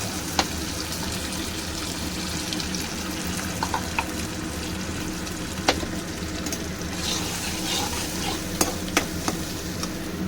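Spices sautéing in a pan with chili, tomato and ginger paste for an aloo soyabean curry, a continuous close sizzle and frying hiss with occasional sharp clinks of stirring.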